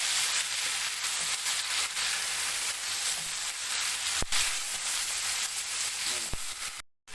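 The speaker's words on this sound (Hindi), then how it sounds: "तकरीबन 4 से 5 मिनट के लिए आपने इनको फ्राई करना है इस तरीके से" Pieces of chicken frying in a pan for a kimrasal chicken and chickpea dish, giving a steady, close, continuous sizzle throughout with a couple of brief knocks near the end.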